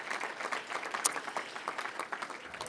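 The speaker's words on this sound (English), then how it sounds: "let's give them a round of applause" A room full of people at a chambers of commerce legislative event applauds steadily, a dense, even patter of many hands clapping at a moderate distance.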